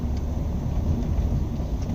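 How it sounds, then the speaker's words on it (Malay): A car rattles and rumbles steadily as it drives along a bumpy road, a low continuous road and cabin noise with no speech. "Sebab kereta ni pun bergegak bunyi sikit."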